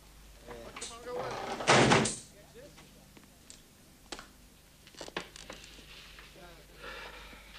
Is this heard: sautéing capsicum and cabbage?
no